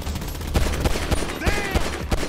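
Rapid bursts of gunfire in the video game Grand Theft Auto V, loud and close, several overlapping shots in quick succession during a firefight.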